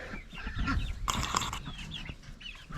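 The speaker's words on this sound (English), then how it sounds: "Chickens are getting big." Young backyard chickens cluck and murmur softly nearby, with a few brief louder squawks breaking through, in an outdoor setting with faint background noise.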